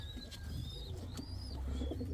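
Indian fantail pigeons coo softly with low, rolling murmurs, while thin chirps from other birds sound faintly in the background.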